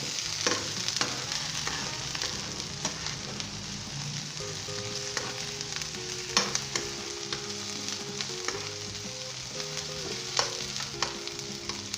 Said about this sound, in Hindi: हम इसे 1 मिनट के लिए अब हम इसे फ्राई करेंगे इसी के अंदर